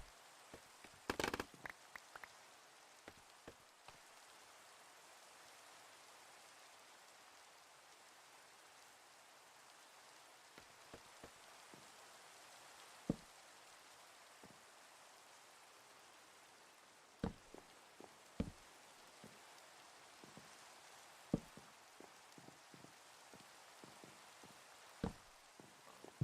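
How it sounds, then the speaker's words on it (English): Rain falls steadily in a video game as a soft, even hiss, with scattered sharp drop-like ticks and pops across the span and no talk. "Let's see if we can get rid of this rain"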